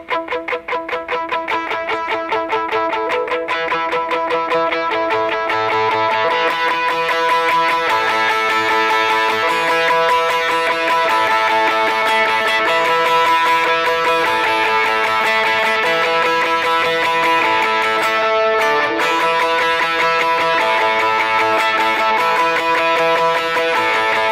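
Heavily processed electric guitar plays a steady, repeating pattern of ringing notes, dense and loud throughout with a shimmering, effects-laden tone.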